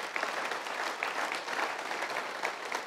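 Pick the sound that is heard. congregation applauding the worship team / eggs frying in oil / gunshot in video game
congregation applauding the worship team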